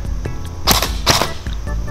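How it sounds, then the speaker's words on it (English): An airsoft gun test-fired after being used underwater, with two sharp, close snapping shots about half a second apart and quieter clicks of handling around them. "We'll do a test fire."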